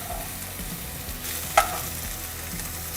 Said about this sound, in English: So just to take the raw smell out of the onion and ginger, I'm going to saute it for a few minutes.